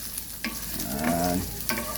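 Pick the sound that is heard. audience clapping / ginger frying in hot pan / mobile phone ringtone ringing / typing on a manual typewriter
ginger frying in hot pan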